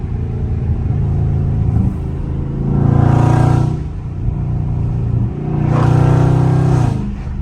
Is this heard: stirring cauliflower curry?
no